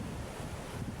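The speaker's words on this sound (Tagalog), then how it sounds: "Lakas ng alon, umabot pa dyan." Strong waves roll against the Eco Park shore after a typhoon, a dense, steady roar mixed with gusting wind buffeting the microphone, heard alone for a brief moment.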